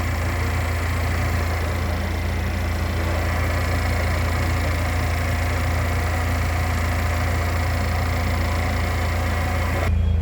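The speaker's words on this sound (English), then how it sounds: "Okay, with the motor running." A 2020 Chevrolet Equinox engine idles with the hood open, a steady, even low hum and drone that stays constant and fairly loud from start to finish, with no talking.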